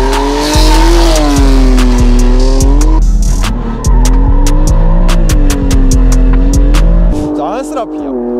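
A BMW M3 launches hard under launch control, its engine revving high and climbing through rapid gear changes with tire squeal, loud and close, while a person talks over it.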